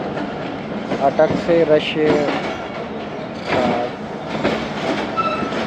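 Jaffar Express passenger train running on the rails between Peshawar Cantt and Lahore, heard from inside a carriage as a continuous loud rumble with clattering wheels and brief squeals, and a voice talking over it.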